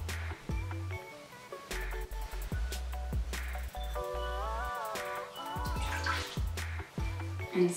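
Water sloshing and dripping as a kinky curly wig is pushed under to soak, small splashes and trickles close up, with light tones and clinks of handling throughout.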